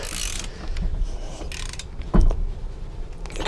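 Wrench tightening differential cover bolts on a 14 bolt axle during a locker install, with short metallic ratcheting clicks and rattles in bursts and one sharp knock midway, close and fairly loud, with no talking.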